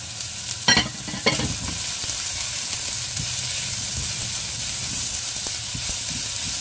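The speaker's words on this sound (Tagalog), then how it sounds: "Then, maglagay na tayo ng bawang. Then, ang ating sibuyas." Garlic and onion sauté in a pan for vegetable lumpia with a soft, continuous sizzle. Two sharp bursts of crackle near the start suggest ingredients dropping into hot oil, and the hiss then settles into a steady background.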